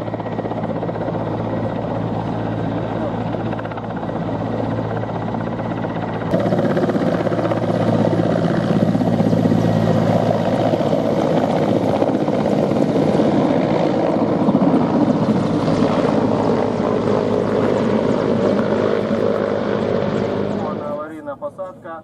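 A helicopter runs steadily and loudly throughout an airport emergency rescue training exercise, its rotor drone swelling louder partway through and then fading at the end, with people talking over it.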